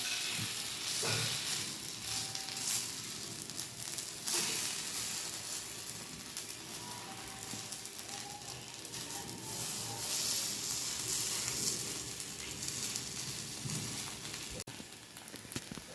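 Kuzhipaniyaram batter frying in the hollows of a pan, giving a steady, close crackling sizzle with faint stirring or scraping, with no talking.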